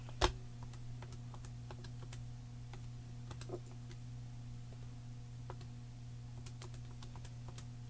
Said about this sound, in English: I'm going to put these in the calculator.